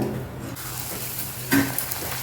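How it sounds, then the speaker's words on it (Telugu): Poori dough fries in very hot oil with a constant close sizzle, and a brief louder hiss flares up partway through as the dough is pressed or shifted. "ఆయిల్ బాగా వేడిగా ఉండాలండి పూరి వేయించాలంటే"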